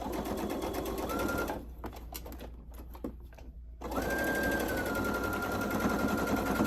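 Sewing machine stitching a rag quilt seam, a steady, rapid mechanical whir that runs, pauses briefly with light handling clicks, then starts again at full speed, close up and alone.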